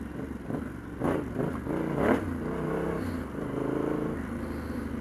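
A Yamaha Tenere 700 adventure motorcycle rides at a steady pace in a tall gear, its engine a low, continuous throbbing drone with a brief surge of revs, close up and alone.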